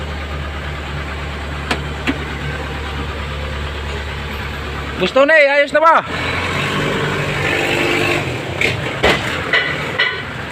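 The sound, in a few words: Isuzu 4BA1 truck engine running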